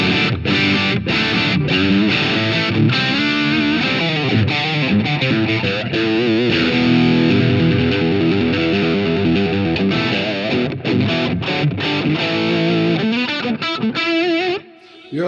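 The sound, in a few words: guitar amp with TubeZone overdrive engaged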